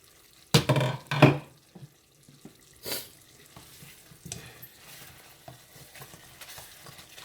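Stewed goat with cut-up potatoes simmering in a pot, with a couple of loud stirring and scraping bursts near the start, then soft intermittent clinks and low bubbling.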